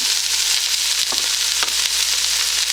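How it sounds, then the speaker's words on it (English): Onions and carrots dropped into a hot pot of shimmering oil for homemade bean soup sizzle loudly and continuously, with a couple of brief stirring scrapes. "I'm going to add my onions, my carrots,"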